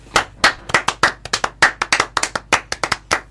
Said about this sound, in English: Round of applause to me.